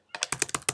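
Quick taps on a computer keyboard while entering a web address, about seven close, crisp keystrokes in a rapid burst.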